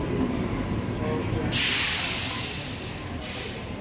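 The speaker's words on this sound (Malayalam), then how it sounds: "അപ്പം നമ്മൾ എറണാകുളം റെയിൽവേ സ്റ്റേഷനിൽ ഇറങ്ങി ലിജിൻസ് നമ്മളെ കൂട്ടാൻ വന്നിന്" A train rumbles steadily at Ernakulam railway station while a loud hiss of air or steam bursts in partway and then cuts off, with faint voices in the background.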